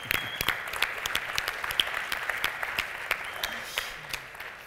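Applause from a conference audience at an entrepreneurship event, a steady patter of many hands clapping throughout, moderately loud and alone without speech.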